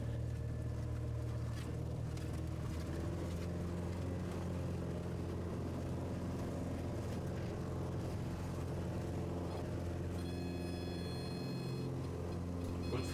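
Cessna airplane engine at full throttle during a bumpy takeoff from a rough one-way Idaho airstrip, a faint, continuous droning rumble heard from inside the cockpit with no break.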